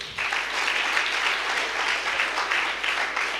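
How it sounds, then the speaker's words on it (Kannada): A church congregation at a worship gathering claps together in a dense, even burst of applause lasting several seconds, fairly close and without talk over it. "clap for your neighbor"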